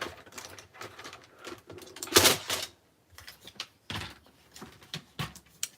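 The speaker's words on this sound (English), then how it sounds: "I'm gonna give this a quick trim" A paper trimmer cuts a sheet in a craft setting, with a series of clicks and short sliding swishes and one louder, longer rasping pass near the middle, all close and without talk.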